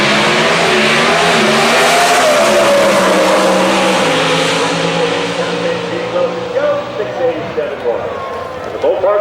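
An NHRA Pro Stock drag car makes a qualifying run at Houston Raceway Park, its engine a loud, sustained roar that climbs in pitch as it pulls away and then fades, under a commentator's excited talk.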